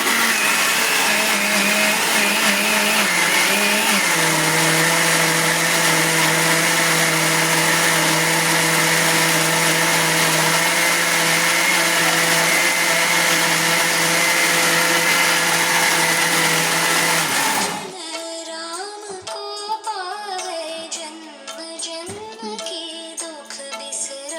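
A wet grinder churns idli/dosa batter with a steady, loud whirring drone that holds for most of the stretch, then stops abruptly, leaving quieter household sounds and faint activity.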